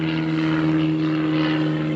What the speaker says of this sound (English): Always the airplanes.